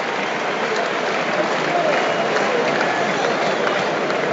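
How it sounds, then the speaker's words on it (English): A large cricket crowd at the third Test between England and South Africa greets captain Ben Stokes walking out to bat with sustained, loud applause and cheering, a steady wall of clapping that never lets up, with a voice faintly underneath. "here comes perhaps the biggest cheer of the day for the captain"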